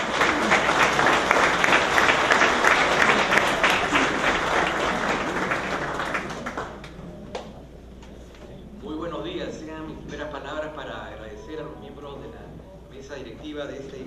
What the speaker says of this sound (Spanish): Recibamos con un caluroso aplauso